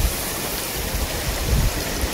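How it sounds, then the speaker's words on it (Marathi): Water pours into a pot for Maggi noodles outdoors in the monsoon hills of Malshej Ghat, a continuous splashing rush, close and fairly loud, with no talking. "पाणी सोडलंय थोडस"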